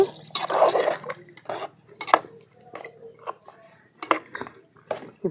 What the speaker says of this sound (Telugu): నీళ్ళు కూడా పోస్తున్నానండి